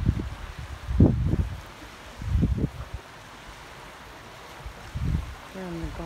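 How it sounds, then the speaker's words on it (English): Waves roll in on a Gulf of Mexico beach at Ocean Springs, Mississippi, low rumbling surges breaking in a few separate swells amid wind noise, with a brief voice near the end. "You never get tired of hearing the sound of the waves."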